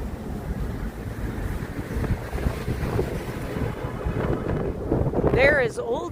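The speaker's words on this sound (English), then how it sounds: "It is getting really windy." Wind gusts along a winter night street in downtown Toronto near Old City Hall, buffeting the microphone in a steady, loud rumble, with a brief rising whistle near the end.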